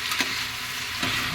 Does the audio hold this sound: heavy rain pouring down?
no